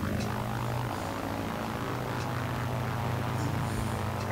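A propeller fighter plane in Battlefield 1943 takes off, its engine holding a loud, steady droning roar with a constant hum throughout and no talk over it.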